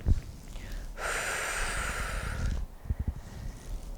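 A person inhales deeply and steadily for about a second and a half while working against a resistance band, a close, airy rush framed by soft breathy noises before and after.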